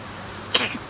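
One short, sharp sneeze, close and sudden, in an otherwise quiet moment.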